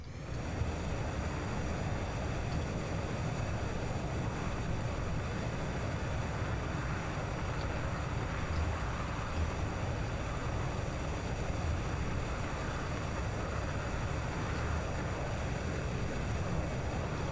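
An aircraft descending toward a landing in the flight game Flyout, a continuous broadband rushing drone of engine and airflow, steady and close throughout with no talking.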